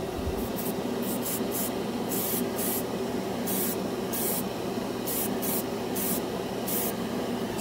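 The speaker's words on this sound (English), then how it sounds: "Spraying really dry. See it? But it is spraying." An airbrush sprays Vallejo Mecha Color metallic paint with a steady close hiss, sputtering dry and broken by short bursts as the trigger is pressed and released.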